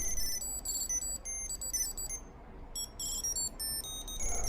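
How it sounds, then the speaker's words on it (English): Repeated electronic bleeps from a motorcycle tracker device's locator function, short high tonal beeps in an irregular pattern with a brief pause midway, fairly near and clear over low background rumble. "There's even a little bleeper function you can activate on the device via the phone app"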